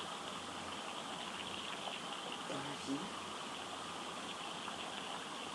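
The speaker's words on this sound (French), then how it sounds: "vous entendez encore cette pluie au loin, tout doucement, qui s'écoule" Soft, steady rain hisses faintly in the distance as a continuous wash, with a quiet voice briefly speaking over it.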